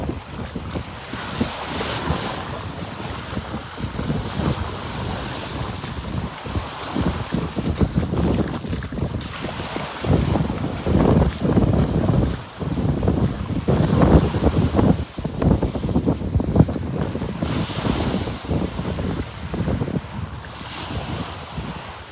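Waves break over a distant sandbar off a North Naples, Florida beach, heard as a continuous rolling surf wash mixed with gusty wind buffeting the microphone, with no talking.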